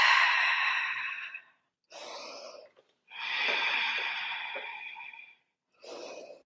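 Slow, deep yoga breaths during a vinyasa flow: two long, airy exhales with shorter inhales between, close and clear in a quiet room, with no talking.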